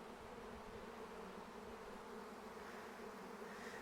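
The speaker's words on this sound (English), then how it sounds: "Here we have pretty nice docile bees." A swarm of docile honeybees hums in a dense, continuous buzz, steady and fairly faint, with no voices over it.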